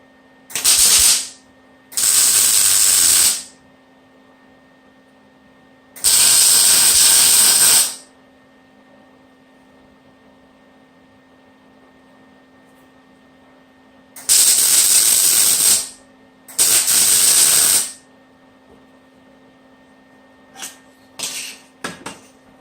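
Tack welding on a car subframe: five bursts of crackling, hissing arc, each one to two seconds long, separated by quiet gaps, with a steady low hum underneath and a few faint clicks at the end.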